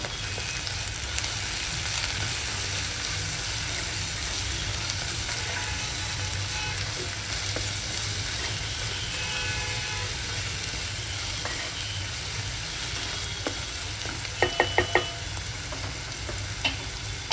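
Poha frying in a pan with salt and turmeric, stirred steadily to a continuous sizzle with scraping, followed near the end by a few quick metallic clinks of the spoon against the pan.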